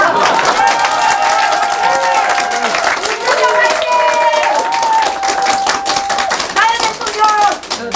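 Party members clap and cheer at a meet-up with the party leader, loud sustained applause mixed with crowd voices and people talking over it throughout.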